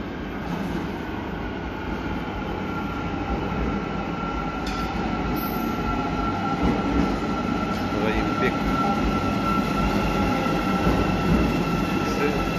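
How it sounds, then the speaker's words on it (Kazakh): An Almaty metro train rumbles into an underground station, a loud, steady roar of wheels and carriages with faint rail squeals, close and continuous throughout. "Менә поездда килә бит инде."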